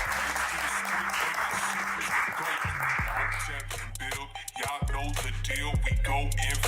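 An audience clapping and cheering at a live show, a broad wash of applause in the first seconds that gives way to a loud music track with a rapped vocal.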